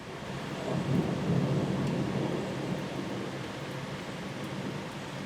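Rolling thunder from a close thunderstorm in southeastern Pennsylvania rumbles over a steady wash of heavy rain, loud and continuous throughout with no voices.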